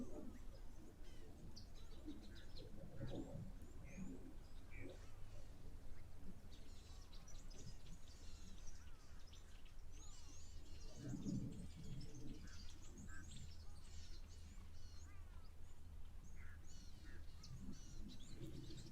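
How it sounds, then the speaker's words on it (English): Faint birds chirp and coo at a waterhole, scattered soft calls over a steady outdoor hiss with no nearby talk. "Just listening to the lovely sounds of these birds chirping in the background."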